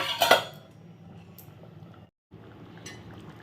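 A metal lid claps onto a pot of simmering aloo posto with a sharp clink near the start, followed by a low, steady bubbling murmur with a faint clink partway through.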